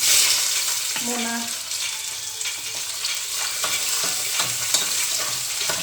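Mutton caldereta ingredients sauté in a pan, giving a close, continuous sizzle broken by scraping stirs, while someone speaks briefly.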